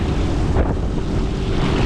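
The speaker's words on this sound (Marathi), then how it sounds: "आता वारा आहे" Strong wind at sea during deep-sea fishing buffets the microphone in a constant low roar, with no voices and no other distinct sounds.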